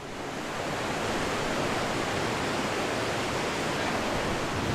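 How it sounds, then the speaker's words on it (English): The Baiyang waterfall in Hualien, Taiwan, with its rushing river: a loud, unbroken broadband roar of falling and churning water that fills the whole scene, steady throughout. "So right behind me, everybody, is the Baiyang waterfall"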